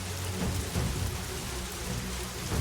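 Steady rain pours down in a dense, even hiss of drops striking surfaces, continuous and close for a couple of seconds with no voices.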